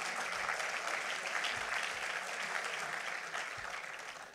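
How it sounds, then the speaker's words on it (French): A party congress audience applauds the president, a steady dense wave of clapping at even volume that slowly tapers toward the end. "je pense qu'on peut applaudir notre président pour ça"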